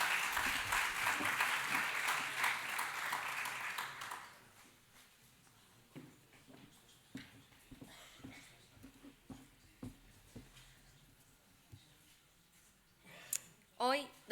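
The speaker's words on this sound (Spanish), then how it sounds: "Démosle un aplauso." An audience at an International Social Education Day event gives a dense burst of clapping that fades after a few seconds, leaving scattered clicks, taps and nearby voices.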